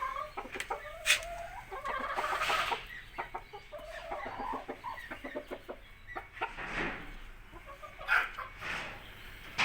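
Several Sultan chickens cluck and squawk in a steady, busy chatter, close by, with occasional louder calls rising above the flock.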